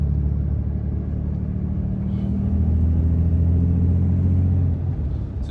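A RAM 3500 pickup with a Cummins diesel and 68RFE transmission accelerates under gentle throttle, a close, deep engine rumble whose pitch swells upward over a few seconds before easing off.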